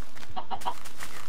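Chickens in the Minecraft video game give a few short, bright clucks in quick succession, close and fairly loud within a brief moment.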